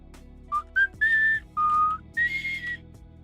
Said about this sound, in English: whistling right in your ear is probably not a good idea